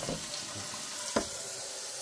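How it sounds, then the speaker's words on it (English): Steady cold tap water splashes into a sink while rinsing salt off salt fish, a continuous close hiss of flowing water with one brief clatter partway through. "Using cold water, we rinse off the salt first."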